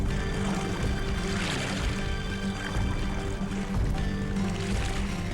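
Oars of a Greek trireme churn continuously through water, giving a dense, broadband splashing and rushing wash that stays loud and steady throughout without any clear pauses.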